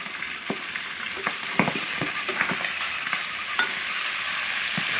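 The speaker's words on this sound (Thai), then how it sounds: "รอให้มันเหลืองนี่จะทอดสักประมาณสองสามนาทีครับ" Rat frying in hot oil with garlic and pepper, a steady bubbling sizzle broken by scattered sharp pops and crackles, close and fairly loud with no voices.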